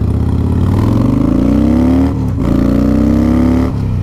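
Harley-Davidson Fat Boy motorcycle with about 20,000 miles, its engine climbing steadily in pitch as the throttle rolls on, a short gap at a gear change, then pulling hard again, loud and close throughout.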